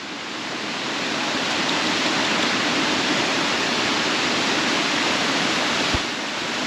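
Waterfall in a natural setting, a steady broadband rush of falling water that holds constant and fairly loud throughout, with no voices.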